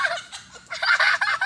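Chicken clucking close by, a burst of harsh, nasal calls with a short pause in the middle before a louder, busier run of clucks.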